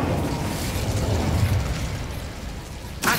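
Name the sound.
Incendio fire spell explosion in video game Hogwarts Legacy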